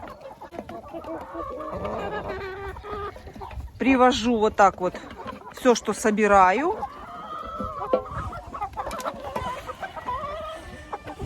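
Hens cluck and murmur while pecking at table scraps in a backyard coop, with a rooster crowing briefly in the middle. Someone speaks Russian over the birds.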